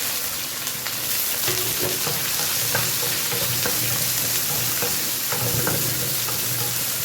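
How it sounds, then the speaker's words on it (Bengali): Chopped onions and green chillies fry in hot oil in a close, loud, steady sizzle. Scraping and stirring strokes break through the hiss at irregular intervals. "পেঁয়াজটা আমার ভাজা হয়ে গেছে"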